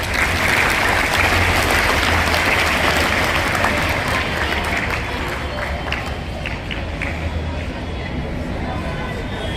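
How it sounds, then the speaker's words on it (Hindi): Loud sustained clapping from a crowd of school students welcoming guests at a Guru Tegh Bahadur commemoration program, thick and continuous, easing slightly toward the end amid crowd babble. "एक बार सब लोग सैनिक ताली बजाकर करतल ध्वनि से उनका स्वागत"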